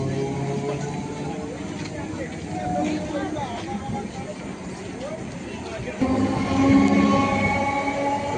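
A crowded Canning local train rumbles and rolls close by as it departs, with metallic wheel squeals rising partway through and voices murmuring in the background.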